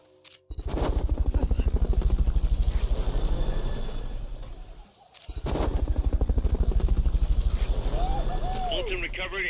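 The Fulton recovery helicopter in Metal Gear Solid Peace Walker gives off a loud, rapid, rhythmic rotor chop. It dips briefly midway, then returns at full strength, with faint chirping sounds over it.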